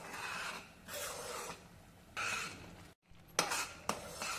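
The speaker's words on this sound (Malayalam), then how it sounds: "വെള്ളം കൂടെ ചേർത്ത് നമുക്ക് നന്നായിട്ട് ഇളക്കി യോജിപ്പിക്കാം." A spoon scrapes rava halwa mixture around a pan in short rasping strokes, four or five bursts with brief pauses, close and fairly quiet, ending in a couple of sharper clacks against the pan.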